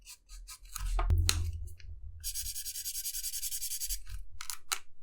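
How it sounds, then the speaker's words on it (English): A juicy, ink-heavy purple permanent marker with a big bold tip drags across sketchbook paper in short scratchy strokes, then one long steady rubbing stroke, close and fairly quiet with no talking. "it's such a juicy marker. There's so much ink in this one."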